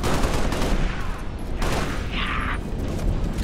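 Rapid automatic gunfire from a weapon in Halo Reach, a dense continuous rattle of shots with game effects and a brief electronic tone mixed in, loud throughout.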